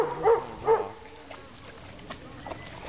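A small dog at an outdoor swimming spot gives two short, close whimpering yelps early on, then the scene settles into quiet ambient noise with faint splashes and a few soft, scattered sounds.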